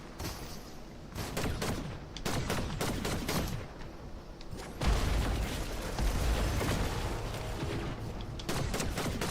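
Shotgun fire in the video game Fortnite: loud, repeated blasts and rapid gunfire bursts layered over a steady game-action background, near and dense, without talking.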